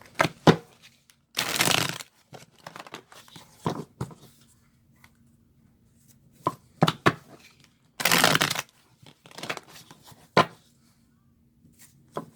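Tarot cards shuffled in short papery bursts, several separate riffles and shuffles spaced across a quiet room with small handling clicks between.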